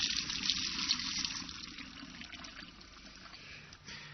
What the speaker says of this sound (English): rinse with boiling water to get the soap off